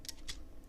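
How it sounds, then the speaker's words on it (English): Computer keyboard typing with a couple of distinct key clicks, close and fairly quiet, no voices. "I am now typing"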